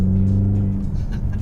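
A Ford Mustang EcoBoost four-cylinder with a MagnaFlow exhaust idles and burbles at low revs, a deep steady rumble close by with no talk over it.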